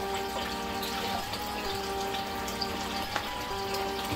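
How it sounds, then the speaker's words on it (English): Water pours steadily into a fish tank, making a constant splashing, trickling wash that holds an even level for a few seconds with no voices. "While that water is going in here"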